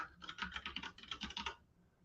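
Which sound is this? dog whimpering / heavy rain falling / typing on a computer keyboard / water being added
typing on a computer keyboard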